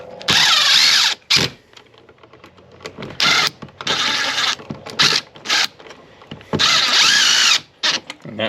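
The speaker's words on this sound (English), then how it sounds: "We're going to go ahead and we're going to screw this thing in." A power drill drives screws into an electrical box in loud, close bursts of whirring lasting one to two seconds each, separated by brief quiet gaps and a few shorter spurts.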